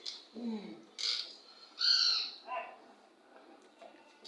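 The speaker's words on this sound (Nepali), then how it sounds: "चराको आवाजहरू त दामी आएको छ नि फेरि" Several bird calls ring out in separate bursts, some rising and whistled, others short and harsh, against a quiet background.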